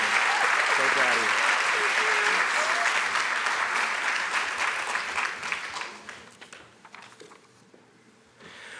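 A graduation ceremony audience applauds a graduate. Loud, full applause fills the room for several seconds, then thins out and fades, with voices faintly audible underneath.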